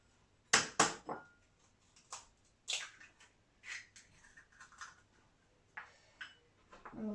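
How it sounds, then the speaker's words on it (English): An egg cracked open during snack preparation, with a couple of sharp cracks near the start, followed by soft quiet taps, drips and shell fiddling, close and fairly faint, with no voices. "Now we're going to crack the egg."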